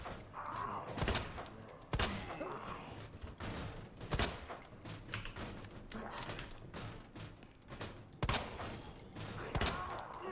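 Gunshots fired at zombies in the Resident Evil video game, sharp loud bursts at irregular intervals, some in quick clusters, over a game soundscape with no talk.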